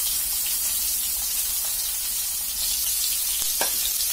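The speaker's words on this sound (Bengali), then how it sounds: "এখন টুকরো করে কাটা আলুগুলো দিয়ে দেব" Cut potato pieces fry in a pan of hot oil, making a steady close hiss and sizzle, with a couple of brief stirring knocks near the end and no speech.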